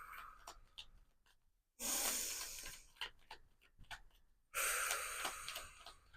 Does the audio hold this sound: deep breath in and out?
yes